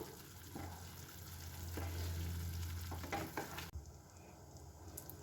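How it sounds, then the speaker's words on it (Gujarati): Palak (spinach) gravy simmering over low heat in a pan for masala idli, a steady soft bubbling sizzle with occasional stirring clinks, then a sudden drop to quieter hiss near the end. "આ ગ્રેવીને થવા દઈશું।"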